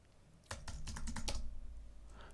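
Close computer keyboard typing comes as a quick burst of clicking keystrokes over about a second and a half, then tails off, with no voices.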